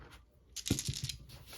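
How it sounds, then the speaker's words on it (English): Plastic game dice from a board game tumble across a tabletop, a quiet burst of a few quick clattering knocks and rattles that fades after about half a second. "Whoop, we have a runaway dice."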